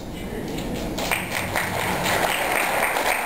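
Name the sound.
audience applause at an awards ceremony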